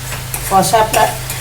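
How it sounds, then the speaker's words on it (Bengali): Masala spice paste for dhoka dalna fries in oil as a spoon stirs and scrapes through it, giving a close, thick sizzle with a few quick scraping strokes. "মশলা কিন্তু তার মানে খুব ভালো করে কষা হচ্ছে"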